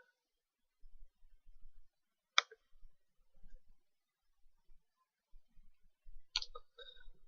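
A computer mouse clicks twice while someone sets up an IRC server connection. The two sharp, quiet clicks are several seconds apart, with faint low handling noise between them and no talk.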